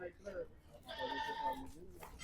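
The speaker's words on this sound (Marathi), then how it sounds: "आता हे बी बघा, पूर्ण चिकावरच्या शेळ्या दाखवणार तुम्हाला." Goats bleat at a goat seller's farm, one drawn-out bleat standing out clearly in the middle against a busy background of nearby voices.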